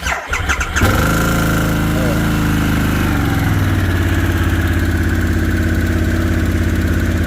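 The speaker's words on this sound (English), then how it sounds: "let's see how our cold start goes here" A 2022 Harley-Davidson Sportster S engine cranks from cold and catches, then settles into a steady, loud, rumbling idle close by.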